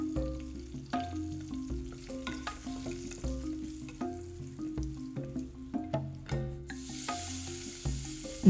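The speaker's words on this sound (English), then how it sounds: "to a pressure cooker, add some oil, half teaspoon of mustard seeds, half teaspoon of cumin seeds, half teaspoon of Asafoetida powder and 3 dried red chillies" Mustard and cumin seeds fry in oil in a pressure cooker, with asafoetida powder and dried red chillies, giving a close, steady crackling sizzle under background music, with sharper spits popping through.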